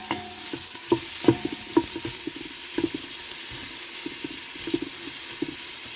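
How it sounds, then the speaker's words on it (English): A yellow onion sautés in oil in a soup pot, giving a steady low sizzle with a few sharp stirring knocks and clinks, near and moderately loud, with no one speaking. "Add in your yellow onion. Let that saute up for a few minutes."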